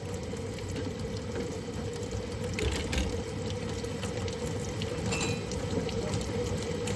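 Water from a tap runs steadily into a sink while a fan blade is rinsed and washed, a continuous close splashing flow with no talk.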